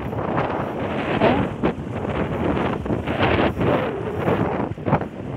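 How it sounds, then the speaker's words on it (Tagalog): Strong wind buffets the microphone in a steady, roaring rush with repeated louder gusts, no voices. "napakahangin, mahangin."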